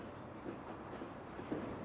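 Low, continuous rolling rumble of a train running on rails in the video game Final Fantasy VII Remake, steady and moderately faint, with no talk.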